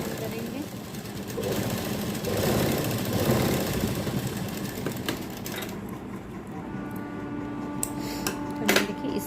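A sewing machine runs in close, uneven bursts while stitching a baby frock, its whirring motor rising and pausing, with a person talking over it.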